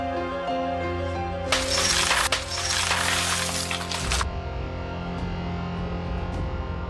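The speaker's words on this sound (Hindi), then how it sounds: "मैं कांच तोड़ के अंदर आऊंगा" Glass smashed in a break-in: a loud, sustained shattering crash lasting a few seconds, close and dominant, set over a steady droning music bed that continues after the breakage stops.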